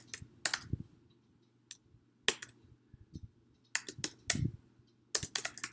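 Keys clatter on a computer keyboard as C++ code for a for loop is typed, with short bursts of quick, close taps separated by quiet pauses over a faint low hum.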